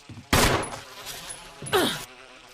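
Two bursts of gunfire aimed at bees in Resident Evil HD Remaster, each a loud sharp crack with a short fading tail, set apart by a brief quiet gap.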